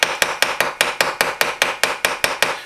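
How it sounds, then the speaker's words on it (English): A hammer lightly taps pins into a straight razor, fourteen crisp, evenly spaced metallic taps in a steady rhythm, close and clear with no talk. "As I'm tapping, I'm moving the razor this way, and moving the hammer this way."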